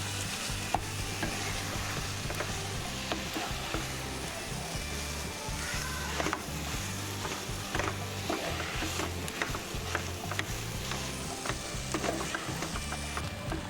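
Mashed potatoes stirred in a hot pan, a continuous soft sizzle of frying with a steady scraping of the spoon throughout, close and fairly quiet.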